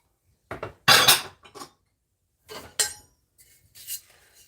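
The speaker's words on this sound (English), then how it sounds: "Doing the dishes." Dishes being washed by hand: pots and cutlery clink and clatter in several short, close bursts separated by brief pauses.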